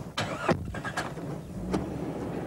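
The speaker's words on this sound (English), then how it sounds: "The thing I like about driving a Cherokee is its power and agility." A Jeep Cherokee on the road in Australia gives a steady, close vehicle rumble with road noise and a few sharp clunks and knocks over about two and a half seconds.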